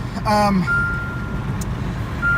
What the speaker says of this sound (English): Sorry for the beeping. I don't have my seatbelt buckled.